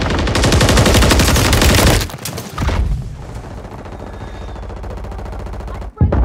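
Call of Duty gunfire: a loud, dense machine-gun burst for about two seconds, then a fading rumble and quieter battle noise with a sharp click near the end.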